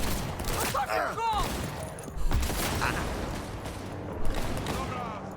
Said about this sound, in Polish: Łapie za strzelbę!